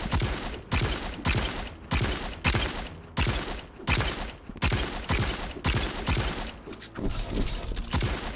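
A hand cannon fires in the video game Rec Room, sharp shots repeating in a rapid, even rhythm of about two per second, loud and close with no talk over them.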